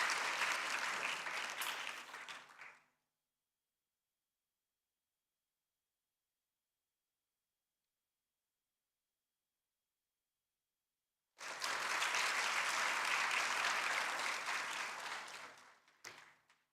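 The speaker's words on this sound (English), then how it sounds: "A big round of applause to His Excellency," An audience at a cultural peace dialogue at the UN conference centre in Bangkok gives the South African ambassador a round of applause. Two dense bursts of clapping, each a few seconds long, are separated by a long silence.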